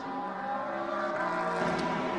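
A race car at the 6 Hours of Silverstone endurance race drones steadily down the pit lane, its engine note held and rising slightly as it draws nearer, with no voices.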